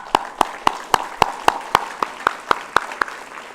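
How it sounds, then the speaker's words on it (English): Audience clapping in unison at a student science conference at the National Air and Space Museum, a steady rhythmic beat of about a dozen sharp claps, fairly close, with no voices over it. "I think you all deserve a round of applause"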